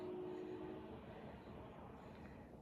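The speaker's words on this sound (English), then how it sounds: "I don't know if you can hear the train." A low, steady rumble of a distant train rolls on throughout, with a faint tonal hum early on and no talking.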